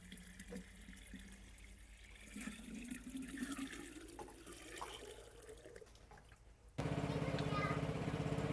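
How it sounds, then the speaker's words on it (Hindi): Water runs and splashes steadily while a village garden or field is watered, a broad rushing wash that swells near the end, with people speaking quietly underneath. "अभी फिर से जो है पानी लगा रहे हैं।"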